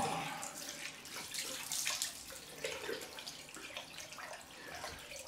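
Cold tap water runs and splashes in a bathroom sink while a face is rinsed after a hot water razor shave, a soft continuous wash with small splashy bursts throughout.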